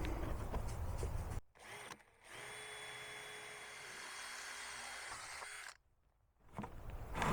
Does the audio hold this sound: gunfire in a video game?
no